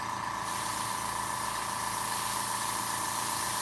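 Steady, close airbrush hiss spraying paint onto a model tank, an even continuous spray that runs unbroken with no pauses or talk.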